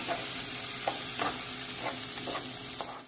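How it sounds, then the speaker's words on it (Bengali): Rice frying in a pan for a tuna dish, a soft steady sizzle broken by several light scraping strokes as it is stirred, close and without speech. "চালটায় কিন্তু একটু ভাজতে হবে 5 মিনিট মতন।"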